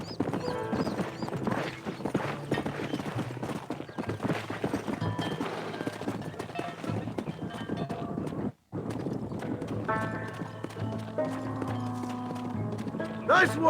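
In the Red Dead Redemption video game, horses trot with a steady clip-clop of hooves that runs through the whole stretch at close range, with music playing alongside, a brief dropout partway, and a whinny near the end.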